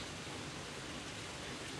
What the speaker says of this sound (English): It's raining this much.